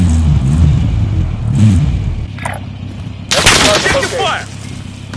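Burst of gunfire in a military shooter game, sharp broadband shots erupting loudly in the last two seconds over a low rumbling engine bed, with faint voices earlier.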